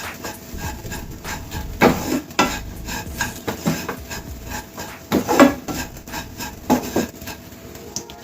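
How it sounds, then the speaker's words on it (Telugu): A spoon stirring sugar into matar kachori filling in a pan, with repeated scraping and clinking strokes at an irregular rhythm, close and moderately loud, with no talk. "షుగర్ వేసుకొని ఒకసారి కలిపేసుకోవాలి."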